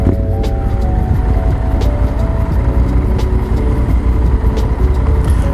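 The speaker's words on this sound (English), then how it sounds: "Ooh, Yamaha 650. Very nice bike." A Yamaha 650 motorcycle rides past on a road, its engine a steady loud rumble throughout with a faint tonal whine above, and no speech.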